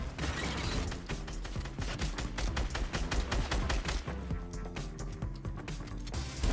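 Dense, rapid gunfire from the Fortnite video game, sharp repeated shots rattling almost continuously in a loud, busy mix of overlapping weapons.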